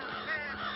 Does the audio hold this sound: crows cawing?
yes